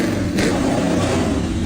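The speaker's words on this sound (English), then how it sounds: "he starts the engine once again. This time, the engine comes to life" Restored heavy three-wheel motorbike engine running loud and close, a steady rough mid-range drone with a brief rise in revs near the start, with no talking.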